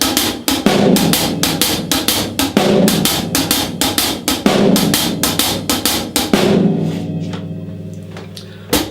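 A half-time shuffle groove played on a drum kit, steady swung hi-hat or cymbal strokes over a kick, with a heavy snare backbeat landing only once per bar, loud and close, then a ringing decay at the end.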